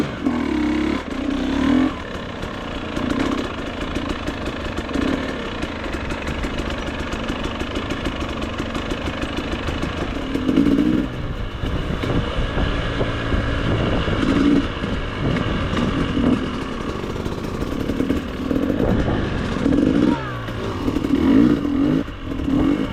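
A GasGas EX250 dirt bike engine idles and revs unevenly nearby, rising and falling in short surges under steady rough noise during a first ride, with no talk.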